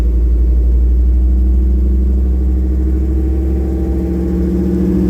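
A 1966 Ford Bronco on the move, its engine giving a steady, loud, low rumbling drone with a mild pulsing, close by and continuous, with no talking.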